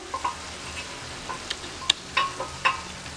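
Okra (bhindi do pyaza) stirred in a cooking pan, giving scattered soft scrapes and light sizzling clicks at an uneven pace, fairly quiet and close, with no talking.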